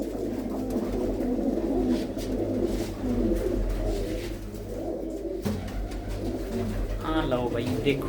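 Blue-footed pigeons of fine breeds kept together in a loft, their soft, repeated cooing rumbling low and near beneath someone talking throughout.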